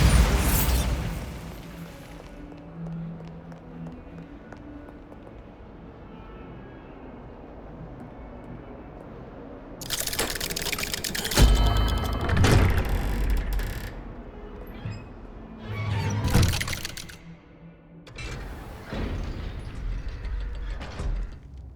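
A Bombarda spell cast in Hogwarts Legacy bursts into a series of loud booming explosions after a quiet stretch, with several heavy blasts and rumbling debris following in separate bursts.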